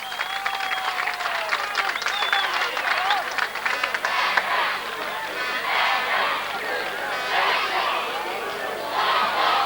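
A crowd at a 1986 Gaelic football county final in Donegal applauds a substituted player leaving the pitch, steady clapping and crowd noise throughout, with some cheering and a faint whistle early on.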